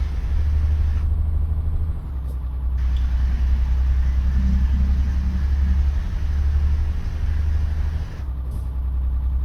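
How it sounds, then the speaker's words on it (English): A MAN truck in Euro Truck Simulator 2 hauls a heavy gravel load down the road, its engine droning as a deep, steady, loud rumble with slight shifts in tone and a few faint clicks, with no voices. "this is my first drive actually in my MAN truck"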